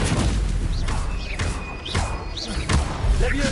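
Stupefy spell cast in the Hogwarts Legacy video game amid continuous loud combat effects, with repeated heavy thumps and booms and whooshing magical sounds throughout.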